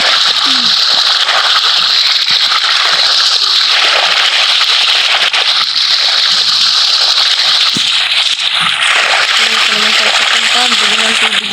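Water splashes and sloshes continuously in a swimming pool in the Roblox video game, a loud hissing wash with people talking over it.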